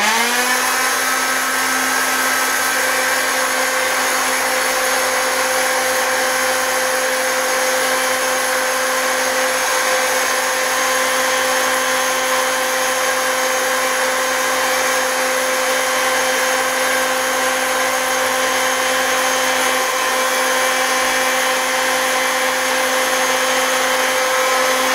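A hot air popcorn popper roasting coffee beans runs as a steady, loud blower whir that holds an even, continuous tone throughout with no pauses.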